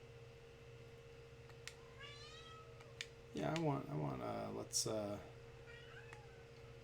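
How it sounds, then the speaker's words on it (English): Real house cats meowing in the background of a room where someone streams Fire Pro Wrestling World, a few short rising meows early on, then a burst of louder, drawn-out cat cries partly overlapping a person speaking. "cat's meowing at me."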